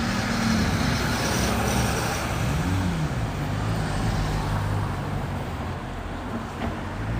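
Steady car traffic rumbles throughout as a dense, continuous roadway wash with low engine drone and no clear pauses, loud and even.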